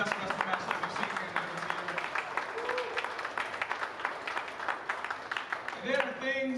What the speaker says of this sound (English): I want y'all to give this man a round of applause